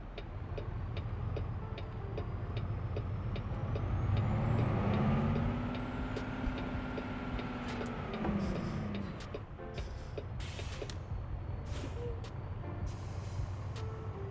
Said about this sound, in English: There were so many air brakes. I think that's air brakes.